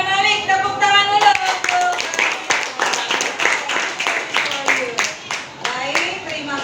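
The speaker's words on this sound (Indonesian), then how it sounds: "Ada Malik, tepuk tangan dulu" A school class claps together, lively and fairly close, while voices call out over the rhythmic clapping throughout.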